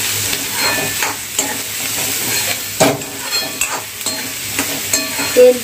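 Chopped onion fries in hot oil for chole chana bhaji, a steady sizzle with clattering stirs and scrapes of a spoon against the pan, loud and close with no talking.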